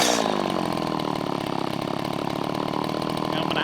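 A small two-stroke weed eater trimmer engine runs close by with a steady, raspy buzz at a fairly even speed, loud and continuous throughout.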